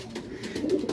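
Racing pigeons coo in a low, soft, continuous burble, close by and fairly quiet, with no talk over it.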